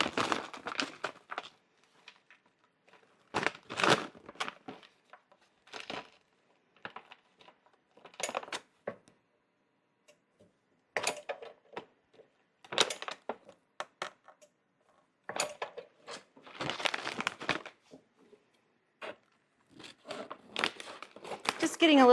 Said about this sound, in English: I'm going to impulse seal it first, and we'll cut across the short end.